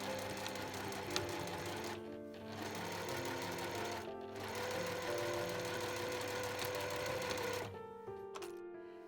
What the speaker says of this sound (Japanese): 底の部分を1センチで縫います